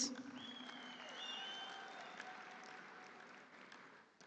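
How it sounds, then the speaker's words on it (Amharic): An audience at an award ceremony claps in sustained, moderately distant applause that tapers off toward the end, with a faint tonal sound running over it. "እስቲ አንድ ጊዜ አጨብጭቡ ፕሊዝ"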